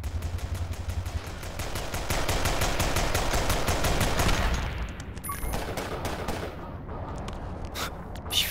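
Rapid automatic gunfire from the side-scrolling combat game Cortex Command, a dense machine-gun burst of evenly spaced shots for about four seconds, then scattered single cracks and short bursts against a softer background.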